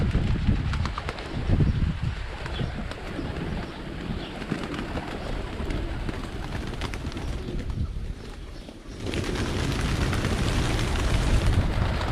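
Pigeons coo among a dense fluttering, rustling din of many birds, with steady outdoor background noise throughout.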